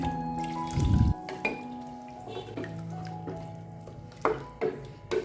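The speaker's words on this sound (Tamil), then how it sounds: "இப்போ நான் தண்ணி வந்து சேர்த்துக்கிறேன்." Water pours into a pot of mutton kuzhambu in a short gush, followed by scattered knocks, drips and clinks of the pot and utensils in a quiet kitchen.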